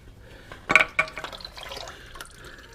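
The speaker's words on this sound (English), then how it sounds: "And just unscrew the oil filter." Oil trickles and drips as the filter is unscrewed from a Yamaha MT-01 motorcycle, a close, soft liquid splash with a couple of sharper drips and faint clinks, quiet and without talk.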